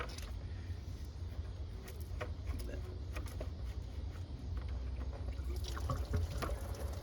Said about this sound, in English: Now we're draining. Just let it drain into the bucket.